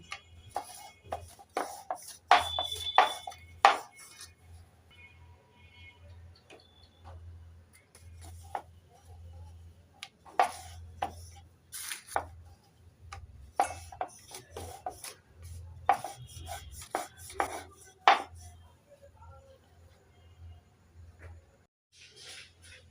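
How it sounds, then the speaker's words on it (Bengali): Flour-dusted balls of luchi dough rolled out with a rolling pin, a run of soft rubbing, rasping strokes and light wooden taps in uneven bursts with short pauses, close and fairly quiet over a low steady hum. "চলো তাহলে এগুলো বেলে নিই এগুলো আমি একটু ময়দা দিয়ে বেলবো"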